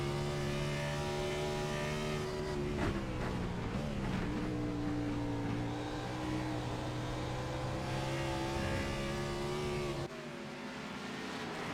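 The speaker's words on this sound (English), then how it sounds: "just listen to the NASCAR at work for a moment here" A NASCAR stock car engine in a sim racing video game drones and revs steadily throughout. Sustained engine tones shift pitch with throttle, and the tone changes briefly near the end. There is no talk over it.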